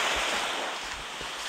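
Waves wash against the shoreline at dusk on the west side of Omura beach in Toyama Prefecture, a loud, constant rush of surf mixed with wind noise on the microphone, heard without any talk.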